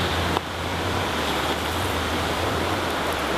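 Water boiling on a Swiss Army camping stove gives a continuous, even rushing roar, close and fairly loud throughout with no voices.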